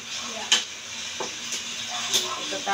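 Sautéing in a pan for a sour shrimp soup gives a steady, moderate sizzle, with a few sharper clinks and scrapes of stirring cutting through near the start and toward the end.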